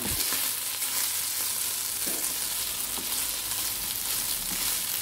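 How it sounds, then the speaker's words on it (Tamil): Mutton dry-roasts in a pan for a pepper fry, giving a loud, dense, continuous sizzle with faint scraping as the meat is stirred. "நல்லா ப்ரௌன் கலரில் ரோஸ்ட் ஆகுது பாருங்கள்"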